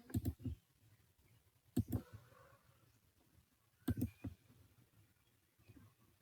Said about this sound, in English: we just need to click on the screen to draw lines